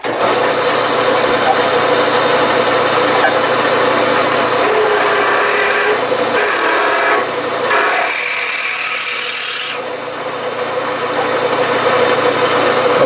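A reamer cuts metal on a drill press during a steam engine build, giving a loud, steady mechanical whine with a few brief shifts in tone near the end.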